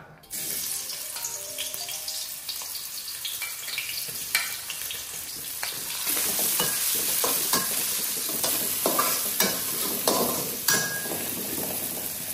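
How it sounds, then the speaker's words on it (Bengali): Onion goes into hot oil in a wok-like kadai and sizzles steadily, with stirring scrapes and clinks over a continuous loud frying hiss. "তেলটা গরম হয়ে গিয়েছে, এখন এখানে পেঁয়াজ দিয়ে দিব।"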